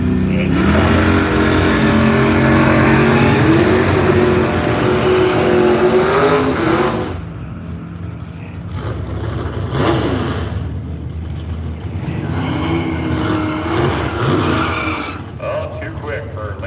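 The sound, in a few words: race car accelerating at Firebird Raceway, Boise, Idaho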